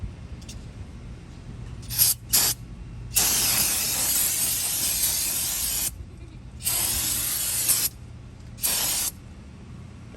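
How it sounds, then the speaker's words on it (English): Aerosol brake cleaner sprayed onto the front brakes of a 2013 Ford C-Max, several loud hissing bursts of different lengths, one long steady spray followed by shorter blasts with pauses between, no voices. "spray everything, but stay away from where you had the grease"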